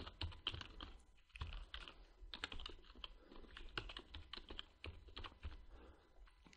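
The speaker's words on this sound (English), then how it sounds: "Type your email." An email address being typed on a computer keyboard, with rapid close clacking keystrokes in uneven bursts and brief pauses, quiet and without talk.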